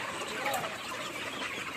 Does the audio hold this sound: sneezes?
no